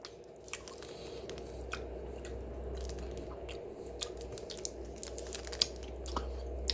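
Close-up crunching of Japanese white chocolate candy being chewed, sharp irregular crackles over a low steady hum, no talking.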